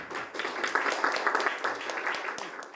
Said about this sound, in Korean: 다시 한번 박수 보내주시고